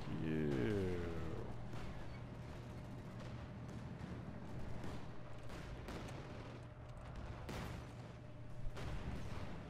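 Gunfire in the World War II strategy game Company of Heroes 2, with anti-tank guns in the fight: scattered booming shots and bursts over a low rumble of battle, while someone talks over it.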